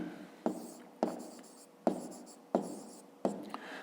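A pen writes out a math calculation on paper in a quiet room, five close scratchy strokes spaced roughly half a second apart, each starting with a sharp tap and trailing off.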